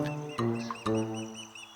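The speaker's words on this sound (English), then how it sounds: "in the tree next to him was his mate, calling for him to bring some of the fish over" Repeated high, thin chirping calls from an osprey, a steady series of short whistled notes over a low humming background.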